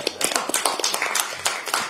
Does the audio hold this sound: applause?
yes